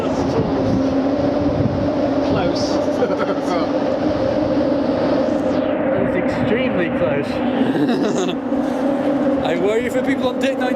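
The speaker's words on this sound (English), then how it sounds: "I didn't know the train went underneath the bridge." A train passes underneath a bridge in Lisbon while the listener rides an amphibious bus over it. A continuous loud rumble of rail and road traffic mixes with wind, and a few higher squeals and passing-car sweeps come in the second half.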